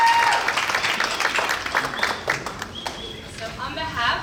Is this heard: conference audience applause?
yes